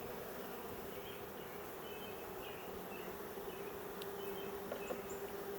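Honey bees buzz around a hive as a BeeWeaver queen is installed, a steady droning hum that fills the whole stretch with no talking.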